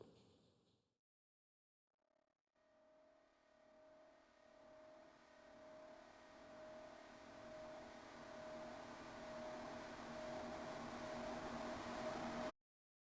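Reversed distortion feedback trail sample from an electronic music track: a noisy distorted swell with a sustained whining feedback tone, rising gradually in loudness before cutting off suddenly, as a reversed tail does.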